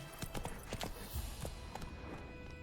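Horse hooves clip-clop at a steady walking rhythm in The Witcher 3 video game, moderately near, set against a continuous ambient wash with no talking.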